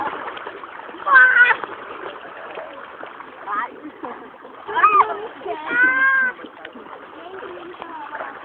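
People splashing in a swimming pool, the water noise steady throughout, with brief loud splash bursts and several voices talking and calling over it.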